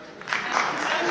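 A comedy show audience breaks into applause, a short swelling wash of clapping that builds within a second and stays fairly faint.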